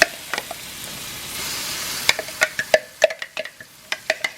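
Garlic and shallot fry in a pan for pad thai sauce, a soft steady sizzle broken by sharp metallic clinks and taps of a utensil stirring against the pan, growing busier toward the end.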